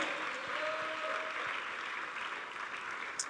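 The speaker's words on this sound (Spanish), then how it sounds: "Fuerte las palmas al bendito Rey" Church congregation clapping steadily through a service, a dense even wash of hands that holds without pause for a few seconds, fairly distant and moderate in level.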